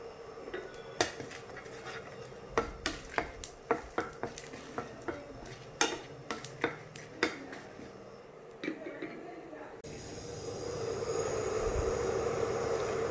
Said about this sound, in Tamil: எள்ளு துவையலுக்கு எள்ளை வறுத்தலாம்.